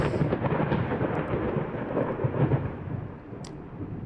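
Steady rain hiss with low rolling thunder rumbles in the video game Layers of Fear, a continuous storm bed that eases slightly toward the end, with no voices.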